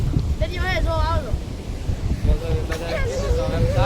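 Wind buffets the microphone at a seashore while sea waves wash in the background, with several people talking loudly over the blustery noise.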